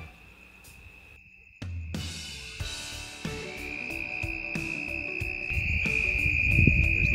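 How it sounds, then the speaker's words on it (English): A steady, high insect-like trill of red-spotted toads calling in the Arizona monsoon fills the scene, many voices overlapping near and far, with occasional knocks and rustles close by. "Literally toads just calling all around us, all over the place."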